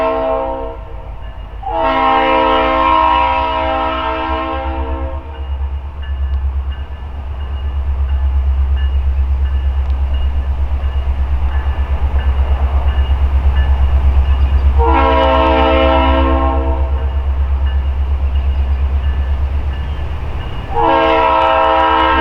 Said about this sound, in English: The train for some reason stopped right before the road and then accelerated again